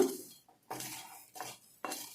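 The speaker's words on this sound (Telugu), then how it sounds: "ఇప్పుడు మనం మిక్సీ జార్కి వేసుకుంటాము" Small hard black cumin seeds rattle and pour into a mixer grinder jar in several short bursts, close by and fairly quiet, with no talking.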